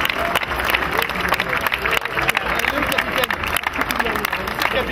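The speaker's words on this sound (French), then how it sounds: "Et on applaudit l'Algérie." A crowd applauds team Algeria, representing Gennevilliers, at a suburban African Cup football tournament medal ceremony, steady clapping and cheering filling the whole stretch with babble and voices mixed in.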